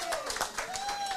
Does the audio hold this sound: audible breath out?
no